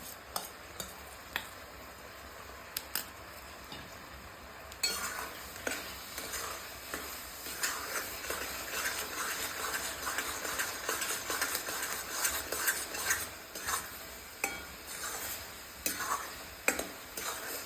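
Grated coconut is stirred into hot sugar syrup for coconut vadi, giving faint bubbling under steady scraping and clicking of a spoon against the pan, quiet at first and busier after a few seconds.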